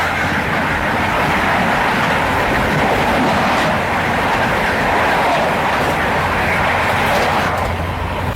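Express passenger train between Ahmedabad and Gorakhpur running on the tracks, heard from inside a coach as a loud, steady rumble and roar with continuous wheel noise and no talk.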